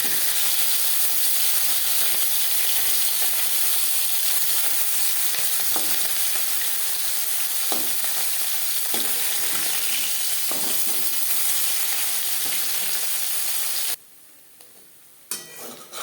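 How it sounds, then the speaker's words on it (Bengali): Small puti fish frying in oil in a pan, a steady loud sizzle with occasional soft clinks and scrapes, cutting off abruptly near the end. "মাছ একটা সাইড ভাজা হয়ে গেলে অপর সাইডটা উল্টে দেবো।"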